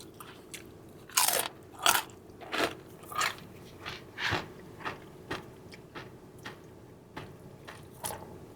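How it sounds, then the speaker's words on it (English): Loud, crisp crunching bites and chewing of a Chipotle carne asada nacho salad, close up and alone, in irregular bursts that start strong and settle into quieter rhythmic chews. "for all of you that like hearing the crunchy sounds of an ASMR"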